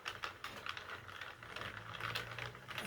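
A hand-cranked yarn knitting machine turns round and round to cast off the yarn, giving a steady run of close ratcheting clicks at a continuous rhythm, with no talking.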